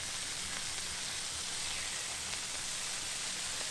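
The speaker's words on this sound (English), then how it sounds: "That sizzling's a little fucking loud in my ears." Loud, close sizzling fills the whole clip as a dense, even hiss with faint crackles throughout, with no pauses and no voices.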